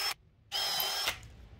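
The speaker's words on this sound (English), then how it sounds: "we're gonna do is precisely drill a little pilot hole all the way through each one of these" A power drill bores pilot holes through wooden subwoofer enclosure panels in two loud bursts, a short whine, a brief pause, then a longer steady run before it winds down.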